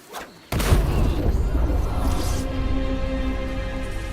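Ship cannon fire in Assassin's Creed Black Flag, a sudden heavy boom that rolls into a long, rumbling decay lasting several seconds.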